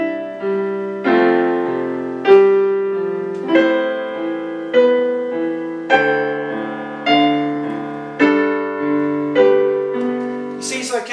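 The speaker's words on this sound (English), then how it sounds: "with a backing track, it would sound something like this." Piano sightreading exercise played over a backing track, a steady series of struck chords and notes about once a second, each ringing and fading before the next, with a brief noisy burst at the end.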